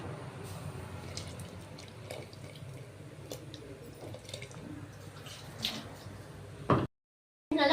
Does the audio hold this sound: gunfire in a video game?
no